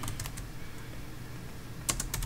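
Typing on a computer keyboard while entering a package update command: clusters of light clicking keystrokes at the start and again near the end, separated by a quiet pause, with no speech.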